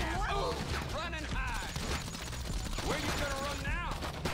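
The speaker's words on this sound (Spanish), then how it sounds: "Oh, me dio un balazo." Rapid bursts of gunfire in the video game GTA V crackle amid a busy, noisy mix, with a voice talking over the shooting in Spanish.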